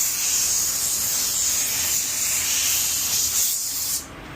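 Paint spray gun laying color onto a car bumper during an automotive refinish, a steady close airy hiss that holds evenly for about four seconds before cutting off.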